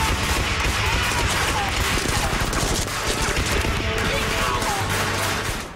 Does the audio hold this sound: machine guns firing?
yes